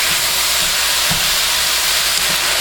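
Ground beef for lasagna sizzling in a pan, a continuous bright frying hiss with occasional soft stirring bumps, close and steady.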